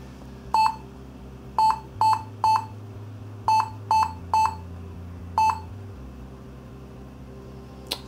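A series of short, sharp laptop BIOS beep codes from a Lenovo B590, in irregular groups over a steady low hum, fairly clear and close.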